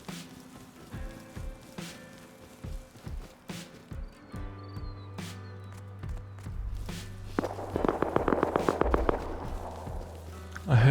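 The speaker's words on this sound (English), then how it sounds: "Then I hear some footsteps." Footsteps in the survival video game Rust, a series of soft separate steps at moderate distance, followed by a brief burst of rapid clattering and a low steady hum underneath.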